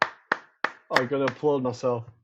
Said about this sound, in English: I'm going to applaud myself.